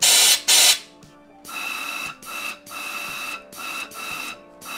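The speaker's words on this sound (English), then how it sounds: "So you can hear the air go through." Compressed air blasts through a car A/C evaporator during a line flush: two loud opening bursts, then several sustained hissing rushes of air with short gaps between them, close and steady, no talk.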